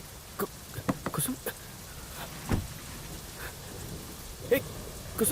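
Heavy rain pours down outdoors during a thunderstorm, a constant hiss of falling water broken by scattered louder splashes and brief low rumbles of thunder.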